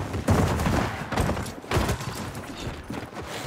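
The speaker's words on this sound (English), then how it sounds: "I got your suppression fire." Gunfire in Gears of War 4 during a Team Deathmatch, loud bursts of shots and heavy thuds in quick succession, close and dense throughout.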